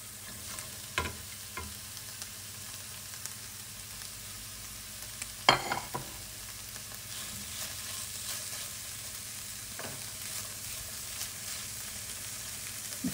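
Potatoes fry in a pan for a pepper-and-potato omelette, giving a steady, close sizzle with occasional stirring scrapes and clicks throughout.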